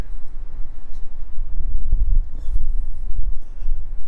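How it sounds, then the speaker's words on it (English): Strong wind blowing outdoors on a town street corner, a steady low rumbling buffet that fills the whole stretch with gusts swelling and easing, loud and close with no talking. "Let's see if we can get out of this wind first."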